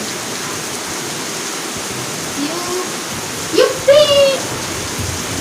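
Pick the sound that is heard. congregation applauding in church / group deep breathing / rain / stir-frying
rain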